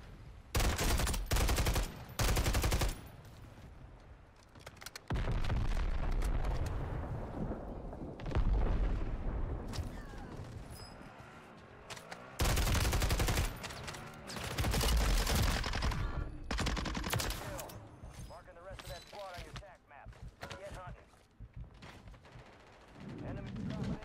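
Gunfire from Call of Duty Warzone on Rebirth Island comes in repeated loud bursts and rattling volleys, with brief lulls between them over roughly twenty seconds.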